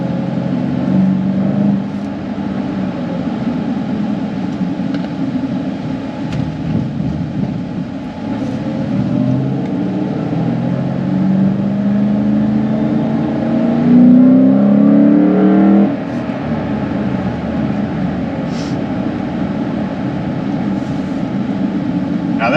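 A 2009 Mustang GT California Special accelerates in second gear from a roll, its V8 loud and rising in a long, steady pull, heard from inside the cabin before the revs drop off.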